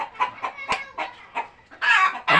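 A restless rooster clucks in a quick, uneven series of short calls, close and clear, ending in two louder, harsher squawking bursts.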